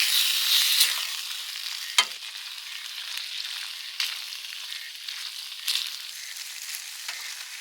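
Tomato, coconut milk and spinach pasta sauce sizzles in a pan while being stirred, with soft scraping and occasional clinks over a steady frying hiss, close and alone.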